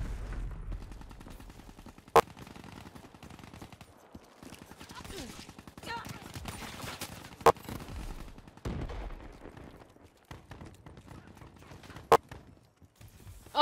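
Shotgun fire in a video game: three sharp, isolated blasts about five seconds apart, standing out against a quieter bed of game noise and chatter while people talk throughout.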